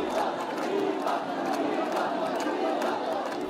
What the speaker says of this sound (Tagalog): Hiyawan at palakpakan ng lahat ng umusad ng andas ng Poong Nazareno